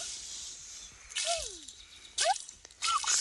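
Water splashing in the Sago Mini Forest Flyer forest game, three short cartoonish bubbly plops with rising and falling swoops over a soft background hiss, fairly close.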